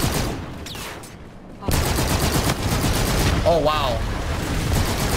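Gunfire from a gun in the beta of the shooter video game R.A.W, a dense rattle of rapid shots running nearly throughout under loud game noise, with a brief exclaiming voice partway through.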